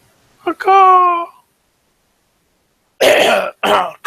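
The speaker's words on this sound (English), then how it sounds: "Clearing his throat again." A man clears his throat with a short rough burst followed by a held, tonal vocal sound, then after a pause gives two more harsh throaty bursts, close and loud.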